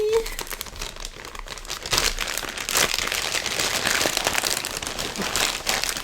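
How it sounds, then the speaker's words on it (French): Plastic packaging from a clothing order is crinkled and ripped open by hand, bursts of loud rustling and tearing rising after a quieter start, with someone talking over parts of it. "À moins que je pense que je vais juste le déchirer."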